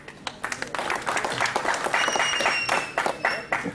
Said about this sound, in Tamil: உண்மையாகவே கைதட்டுறீங்களா, கிண்டல் பண்ணி கைதட்டுறீங்களா?